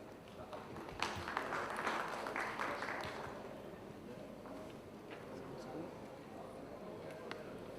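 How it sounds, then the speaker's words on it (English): Conference audience in a hotel ballroom session breaking into applause, a dense burst of clapping that swells for a few seconds and then thins into scattered claps, with faint talk in the room. "I think you can give them a better round of applause than what you just did"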